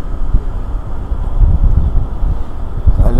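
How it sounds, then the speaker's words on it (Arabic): Wind blowing by the sea beside a parked 2020 Genesis G90 long-wheelbase car, a rough buffeting rumble on the microphone, loud and continuous with gusts rising and falling, no speech. "لأن البحر بجنبي وصوت هواء نقول إن شاء الله ما يزعجكم"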